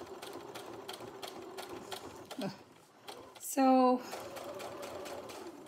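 Sewing machine stitching a large zippered project bag, a steady faint mechanical whirr running under quiet talk, broken by a brief squeaky tone near the end.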